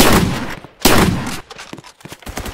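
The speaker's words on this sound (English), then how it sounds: "I got a freaking automatic shotgun." Automatic shotgun blasts from a Fortnite match, two loud, booming bursts in quick succession followed by a rapid string of sharper shots, close and dominant with no talking.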